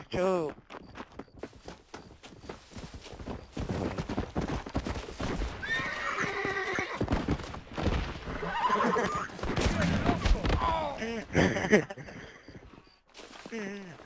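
A horse in Red Dead Redemption neighs and whinnies several times over clopping hooves, with people talking and laughing over the sounds.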